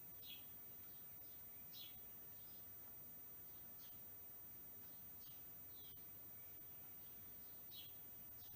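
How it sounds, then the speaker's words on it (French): Small birds chirp outside an open window, giving faint, brief, scattered high tweets over a quiet, steady room hum. "Je ne sais pas si vous entendez les petits oiseaux."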